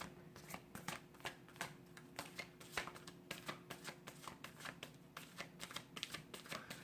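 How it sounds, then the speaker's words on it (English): Steady quiet riffling of an oracle card deck (Work Your Light Oracle) being shuffled by hand, a continuous run of soft rapid card flicks, close up with no voice over it. "So I'm pulling from the Rebecca Campbell Work Your Light Oracle deck."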